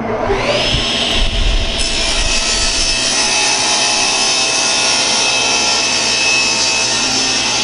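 A table saw with a Dubby crosscut sled makes its first cut through wood, a loud sustained high whine of the spinning blade with a rough grinding rasp early as the wood is fed through.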